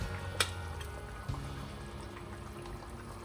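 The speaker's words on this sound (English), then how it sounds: "I'm going to put the pasta in as well." Pasta drops into simmering curry in a pot, a soft splash and bubbling liquid with a couple of brief clinks, faint and close.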